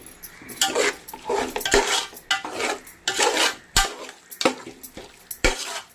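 Chicken coated in masala is stirred in a pan, giving close, rhythmic scrapes and clinks of a utensil against metal in repeated bursts, with no talking.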